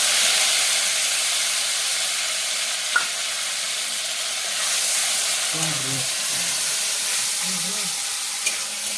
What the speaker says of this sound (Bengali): মশলাটা ভালো করে ভাজবো এটাতে